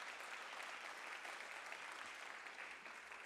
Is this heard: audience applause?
yes